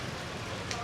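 Steady rain pours down outdoors while sacks of rice are loaded, a continuous dense hiss of falling water filling the whole clip, close and fairly loud with no clear talk over it.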